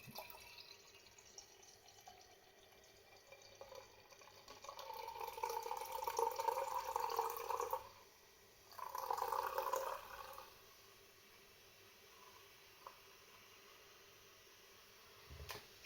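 Samichlaus Helles beer pours steadily into a glass in two bursts, a longer stream then a shorter one, with a soft fizzing quality and quiet pauses around them; no talking.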